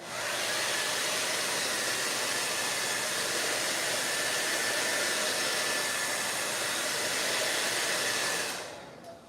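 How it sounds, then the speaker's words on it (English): A hair dryer drying wet paint on artwork blows steadily with a loud, even whoosh, running continuously before cutting off near the end. "The reason why I use a hairdryer to dry my art is because I don't want to smudge it"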